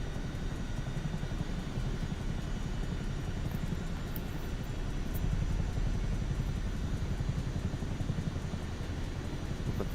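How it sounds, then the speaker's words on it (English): A helicopter passes overhead, its steady rotor and engine rumble loud and continuous throughout, with no voices. "I think we got a helicopter going over."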